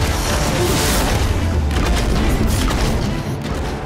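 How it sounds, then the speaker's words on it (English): Explosive chemical bombs from an alchemist's hand cannon in the video game Nosgoth go off in a dense, loud rumble of booms and crashes that fills the whole stretch, tailing off slightly at the end. "It launches explosive chemical bombs that can bounce off terrain for impressive area of effect damage."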